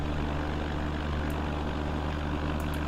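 Republic SeaBee amphibian's piston propeller engine in X-Plane 11, throttled back to about 2100 rpm, a steady loud droning hum with no talking.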